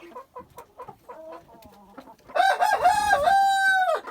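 Young Amrox hens clucking in a short series of soft, close calls, then an Amrox rooster lets out a loud, drawn-out crow lasting about two seconds, with no talking.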